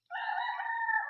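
A rooster crows once, close and clear: one drawn-out call of about a second, with no other sound around it.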